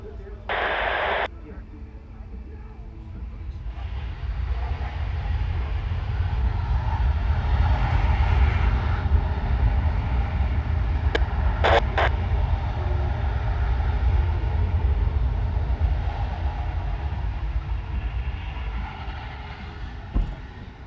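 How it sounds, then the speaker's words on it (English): Boeing C-17 Globemaster III flying at an air show, a loud sustained low engine roar that swells and fades gradually, with an announcer talking over a crowd and a couple of brief sharp tones. "There they are, and this is about as loud as this airplane."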